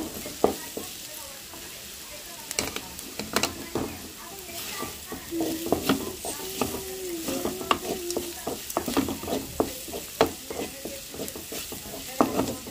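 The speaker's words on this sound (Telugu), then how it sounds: "కారం అనేది పచ్చివాసన పోయిందాక ఇలా 2 నిమిషాల పాటు తిప్పుకుంటానే ఉంది." Chili powder stirred in hot oil in a pan, a steady close sizzle broken by repeated scraping and knocking strokes of a spoon against the pan, with no talk.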